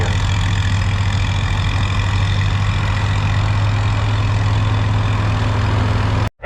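A McCormick Deering W6 vintage tractor engine idles close by, with a steady low throb and a constant hum that run unbroken for several seconds before cutting off abruptly at the end.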